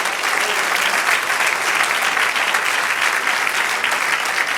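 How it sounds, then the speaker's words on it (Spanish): A church congregation applauding together during a sermon, dense sustained clapping that stays loud and even throughout. "Dele aplauso al Señor."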